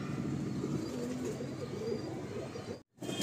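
Pigeons in a loft coo in a low, continuous murmur that runs steadily throughout, cutting out briefly just before the end.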